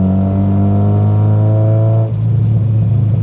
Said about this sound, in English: The exhaust sounds good.